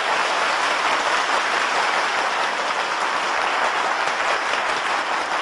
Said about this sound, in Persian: به نظرم این تشویق داره.